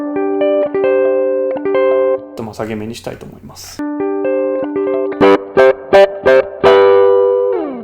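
An electric guitar runs through a Zoom G1 X Four multi-effects unit set to a light Fender-style spring reverb, sounding loud sustained chords and short stabs, with a voice talking briefly in the middle.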